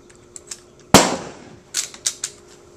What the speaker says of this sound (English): I'm gonna do five rounds rapid fire.